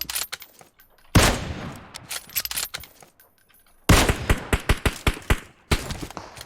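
Gunfire in the PUBG Mobile video game: bursts of rapid shots, some single cracks and some tight volleys, loud and close, separated by short quiet gaps.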